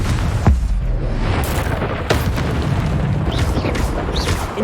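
A Confringo fire spell detonates in the Hogwarts Legacy battle arena with a loud, booming blast and a dense, roaring rumble, followed by further bursts and crackles amid continuous combat noise.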